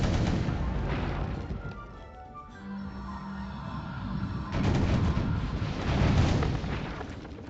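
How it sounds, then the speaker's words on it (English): Ship cannons fire during a naval battle in the video game Pirate101, with heavy booming blasts rumbling in bursts, then a lull, then more loud explosions. "we actually technically aren't even firing cannonballs, we're firing arrows"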